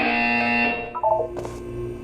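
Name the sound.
buzzer sound in the video game Portal 2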